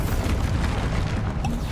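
A Bombarda explosion spell in Hogwarts Legacy leaves a dense, loud rumbling roar that holds steady for under two seconds, with no clear onset, amid fast-paced spellcasting combat.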